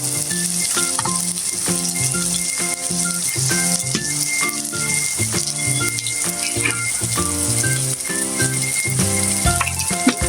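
Ginger and garlic fry in a hot pan with a loud, steady sizzle that continues throughout, with occasional light stirring clatter over it.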